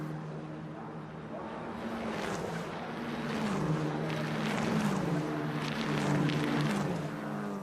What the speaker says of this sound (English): Sound of these Tatius Abarth cars. Fantastic.